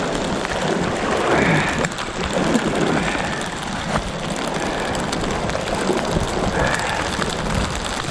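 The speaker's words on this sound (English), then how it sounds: "I guess the rain came after all." Steady rain falls around a solo camp in the Yukon wilderness, a dense, continuous hiss of drops pattering on surfaces that holds at an even level for the whole stretch, with no voices.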